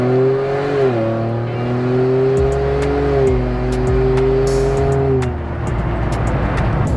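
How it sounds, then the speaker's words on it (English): A 2022 Ford Bronco accelerating hard, the engine note climbing through several gear changes with sharp dips at each shift, loud and close throughout. "Obviously, the Bronco is accelerating pretty good now."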